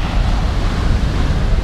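Surf breaking along the Malibu shore beside a pier, a steady broadband wash of waves mixed with wind buffeting the microphone, loud and continuous with no clear pauses.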